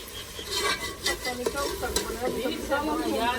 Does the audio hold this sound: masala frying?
yes